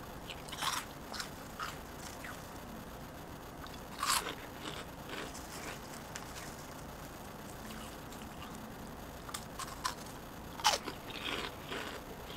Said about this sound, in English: I am like chewing on chips